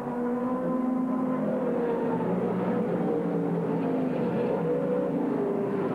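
Sports sedan racing cars at Mount Panorama, Bathurst, in 1991, including a Chevy Monza, drone past with loud, sustained engine roar that shifts pitch as they accelerate, continuous and close throughout.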